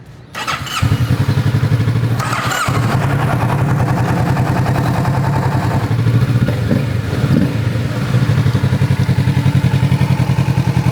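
A Kawasaki Ninja 650 twin-cylinder motorcycle is started up close: a short starter whir, then the engine catches and settles into a loud, steady, throbbing idle that carries on alone to the end.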